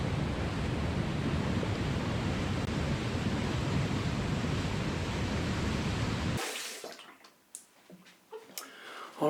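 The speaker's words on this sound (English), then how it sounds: "So let's rinse off real quick." Water runs in a steady, loud hiss for a rinse after a shave with soap, then cuts off abruptly and leaves a few faint clicks and small handling noises.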